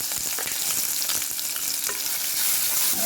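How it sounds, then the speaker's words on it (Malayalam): Crushed shallots sizzle in hot coconut oil with fenugreek seeds, a bright crackling fry with scraping stir strokes, close and steady throughout, no talking. "ഇനി നമ്മൾ ചതച്ച് വെച്ചിരുന്ന ചെറിയ ഉള്ളി ഇടാം."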